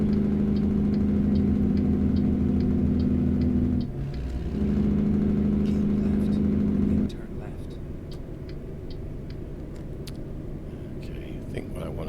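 A Marmon 57p truck engine in American Truck Simulator drones steadily at low pitch, dips briefly, then cuts to a quieter rumble as the engine brake engages, with faint ticking and a voice murmuring throughout.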